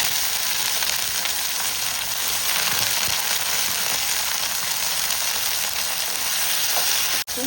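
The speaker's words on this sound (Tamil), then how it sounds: "வெங்காயம், பூண்டு வதங்கிட்டு எடுத்துக்கணும். தக்காளி, கத்திரிக்காய்," Onion, garlic, tomato and brinjal sauté in a hot pan, a steady, loud sizzle and crackle that runs unbroken, with occasional stirring, close to the pan.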